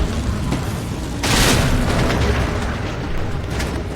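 A grenade goes off in Resident Evil 3 remake: one loud, broad blast booms after a moment of game ambience, then rumbles and fades back into the background noise.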